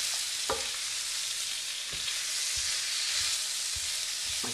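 Pasta swirled through a hot pan with shrimp sizzles and hisses steadily, with a few soft scraping stirs knocking against the pan at intervals.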